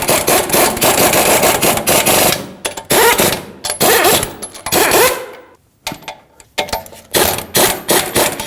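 Lug nuts on a 2014-2019 Toyota Corolla being driven down and torqued to 76 foot-pounds, a loud, harsh rapid hammering rattle in repeated bursts with short pauses between them.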